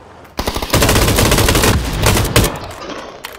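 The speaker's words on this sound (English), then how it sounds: "When they were shooting at me from here, it sounded like they were shooting at me from behind." Sustained automatic gunfire in PUBG, a loud rapid rattle running close for a few seconds with a brief pause and a last shot before it fades.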